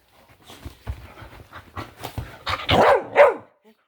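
A pet dog barking and yipping indoors, starting with soft panting huffs that build into several louder, close barks, with no talk over them.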